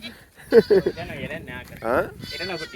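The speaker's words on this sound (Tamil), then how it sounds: "பாருங்க இங்கே ஆட்டுக்குட்டி ஏதோ கத்தி கொண்டு ஓடி" A young goat kid bleats loudly in quavering cries as it runs about a farm, with a person talking nearby.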